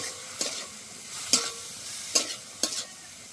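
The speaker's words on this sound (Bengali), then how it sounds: "থেতো করা আদা, কুচি করা রসুন। এবার ভালো করে মিশিয়ে নেব।" A spoon stirs chicken momo filling with crushed ginger, garlic and chopped onion in a sizzling pan, with four distinct scraping strokes over a steady, close frying hiss.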